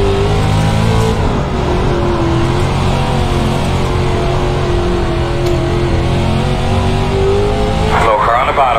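A dirt late model race car in iRacing, running a dirt oval at Cedar Lake, drones loud and close as its engine holds steady on the throttle throughout, with a harsh burst of noise near the end and a voice speaking over it.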